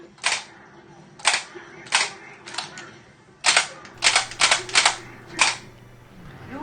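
Light-gun shots in the arcade game Lethal Enforcers, fired with GUN4IR light guns: sharp clicky reports, single and in quick bursts of two to four, roughly a dozen over several seconds, with a faint game soundtrack humming underneath.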